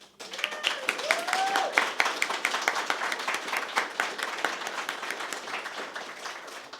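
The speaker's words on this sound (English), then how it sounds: "we can give a round of applause to all the mothers" Congregation at a Mother's Day hybrid church service applauds all the mothers, a sustained round of scattered hand claps building quickly, then gradually thinning, with a voice or two audible beneath.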